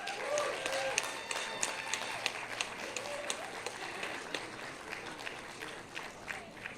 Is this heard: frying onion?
no